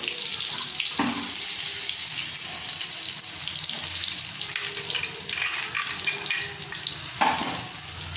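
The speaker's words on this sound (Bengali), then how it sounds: "এবার এই লঙ্কা গুঁড়ো, হলুদ আর নুনটা একটু জল দিয়ে গুলে নেব" A tap runs steadily into a sink as a little water is added to chili powder, turmeric and salt for a Bengali hilsa fish rai roast. The continuous splashing is close and loud, with faint stirring clinks.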